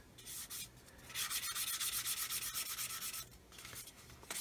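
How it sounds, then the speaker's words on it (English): Sandpaper of 800 grit lightly rubbing over the plastic surface of a 1/144 Roden C-141B Starlifter model kit, a close, steady run of short back-and-forth scratchy strokes in a rhythmic burst, quieter passes at the start and end. "So I've got an 800 grit here. I'm just going to lightly sand over there"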